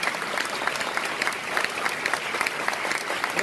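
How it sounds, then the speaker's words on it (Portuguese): A lecture audience in Brazil gives a warm round of applause to welcome a university professor, with steady, dense clapping at moderate level throughout. "professor Vladimir Safato, a quem eu quero receber com uma grande salva de palmas"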